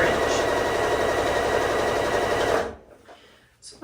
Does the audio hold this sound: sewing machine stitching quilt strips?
yes